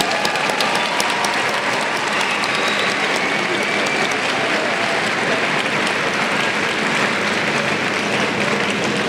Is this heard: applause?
yes